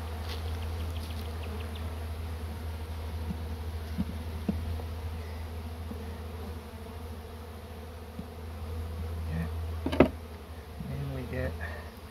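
Honey bees swarm around a tree beehive being relocated outdoors, making a steady, dense drone that runs throughout, with a few faint handling knocks and rustles over it.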